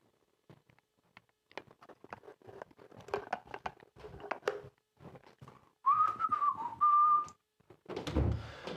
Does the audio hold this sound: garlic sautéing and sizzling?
no